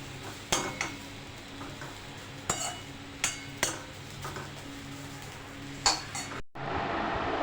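Grated dry coconut roasting in a pan for a spicy Khandesh patodi amti, stirred with a utensil: several sharp metallic clinks and scrapes against the pan, spaced irregularly over a low background hiss, ending in a louder steady rush.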